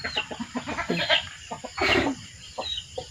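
A wild junglefowl clucks repeatedly at close range, a run of short, agitated calls with a few louder squawks, no other voices.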